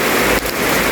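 Heavy rain falls steadily and loudly during a storm, a dense, continuous hiss with one brief dip in intensity partway through.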